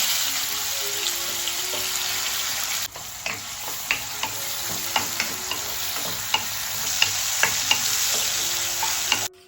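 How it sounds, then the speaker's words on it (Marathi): Garlic and tomato fry in hot oil with a steady, loud sizzle, broken by repeated sharp scrapes and clicks of stirring; the hiss drops briefly partway through, then carries on. "तेल गरम झाल्यावरती लसूण टाकले ना लसूण आणि मग त्यानंतर टोमॅटो"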